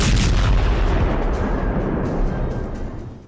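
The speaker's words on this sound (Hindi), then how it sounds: "जोरदार धमाका हुआ टेल अवीव में ही" Iranian missiles strike Tel Aviv with a heavy, rumbling explosion, loud and close, its roar slowly decaying over a few seconds.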